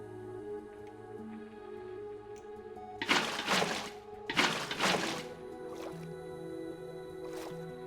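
Water being poured out in the Minecraft video game, two loud, close splashing gushes about a second each, over a steady tonal background, with a faint later drip.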